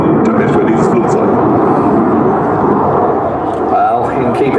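A Saab Gripen jet in a flying display at the ILA Berlin air show at Schönefeld, a loud continuous roar of jet engine filling the whole stretch, with a voice commenting over it.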